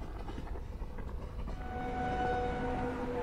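A WDP 4D diesel locomotive hauling an express in the Open Rails train simulator game, a steady low engine rumble and rolling drone with a faint tonal whine creeping in, continuous and fairly close, no voices.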